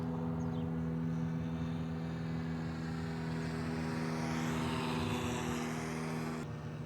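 An RC model airplane with a slightly nicked propeller flies overhead, giving a steady droning buzz with strong tonal hum that holds level throughout, with no voices.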